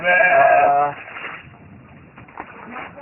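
Goats bleat loudly and close by on a farm, one long wavering bleat filling the first second, followed by quieter rustling and faint animal sounds.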